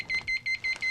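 A phone ringing in a drama scene, heard as a close electronic trill of short repeated beeps in a steady rhythm, alone.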